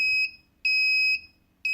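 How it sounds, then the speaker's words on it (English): A homemade propane leak detector beeps loudly and closely in a steady pattern of three long, piercing electronic tones separated by short silences, with no talking. "it should have went to the fast beep right away"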